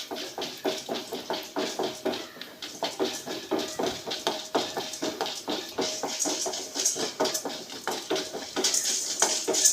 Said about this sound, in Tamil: கடலைப்பருப்பு முதல்ல போடுதேன், உளுந்தம்பருப்பும் கடலைப்பருப்பையும் போடுதேன், வறுக்கட்டும்.